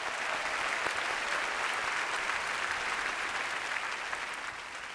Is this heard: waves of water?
no